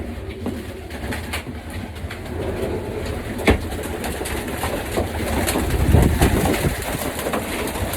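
Racing pigeon hens released from a loft, cooing and fluttering steadily up close over a dense outdoor background hum, with a brief sharp knock partway through.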